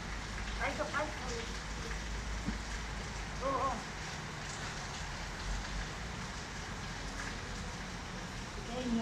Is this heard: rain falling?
yes